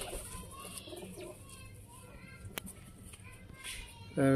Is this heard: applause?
no